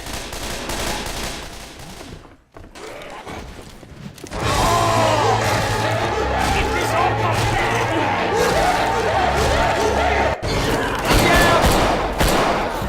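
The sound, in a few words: gunfire in the Left 4 Dead 2 video game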